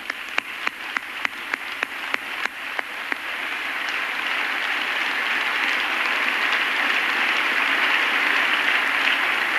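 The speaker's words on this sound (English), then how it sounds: "Let's give him applause right now." A church congregation at a 1997 service applauds: a few sharp, isolated claps ring out first, then build into a full, steady wash of applause that continues evenly to the end.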